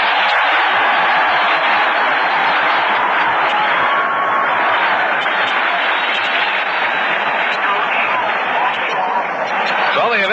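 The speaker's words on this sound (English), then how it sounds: "Listen to that cheer." Stadium crowd at the 1960 NFL Championship between the Philadelphia Eagles and Green Bay Packers, roaring and applauding steadily during player introductions, a loud, dense, unbroken wash of cheering and clapping.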